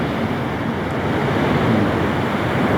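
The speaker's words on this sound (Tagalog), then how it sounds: "Yan ang alon, no?" Ocean waves rolling in at Nacpan Beach with a strong current, heard as a dense, steady roar of surf mixed with wind noise, loud and continuous with no talking.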